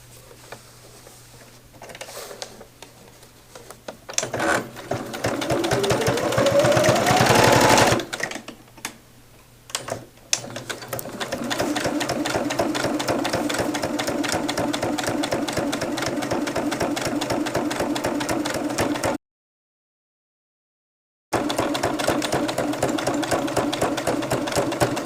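Stitches a patchwork exterior pocket in long, loud bursts of rapid mechanical chatter, with brief pauses and a short silent gap between runs.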